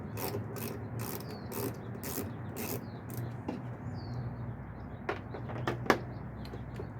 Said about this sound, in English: We'll start by removing the two 10mm bolts using a 1/4" drive ratchet with a